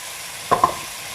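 Chicken steam roast masala sizzles in a pan over a high flame as the last moisture dries off, a soft steady hiss broken by two quick stirring scrapes near the middle.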